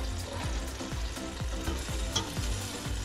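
A pork chop fries in a hot pan, giving a loud, steady sizzle dense with crackling spatter and small pops, close up and with no voices.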